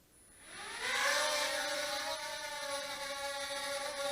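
A small Lian Sheng LS-124 RC helicopter spins up and lifts off, its whirring rotor and motor whine rising quickly then holding steady and loud nearby.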